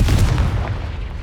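A Confringo blasting spell from Hogwarts Legacy: a short, loud booming burst with a heavy low thump that quickly decays into a rumbling tail within about a second.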